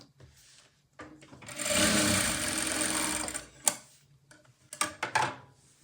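A sewing machine stitches tucks on a katori blouse. One loud, close run of rapid motor whirring lasts about two seconds, followed by scattered ticks and clicks as the fabric is adjusted. No one speaks.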